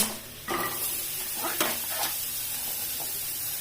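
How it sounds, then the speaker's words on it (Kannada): A medium-size onion fries in a pan for a masala, giving a bright steady sizzle with a few scraping stirs and clinks up close. "ಮೀಡಿಯಂ ಸೈಜ್ ಉಳ್ಳಾಗಡ್ಡಿ ತಗೊಂಡಿದ್ದೇನು. ಸೊ ಅದನ್ನ ಫ್ರೈ ಮಾಡಾಕತ್ತೀನಿ."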